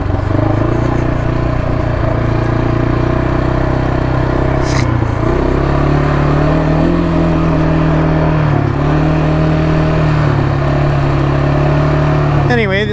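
A Kawasaki 300 quad ATV, newly bought and on its break-in ride, putters steadily through semi-wilderness trails, its mid-pitched engine note rising and dipping with throttle over nearly thirteen seconds, close and continuous.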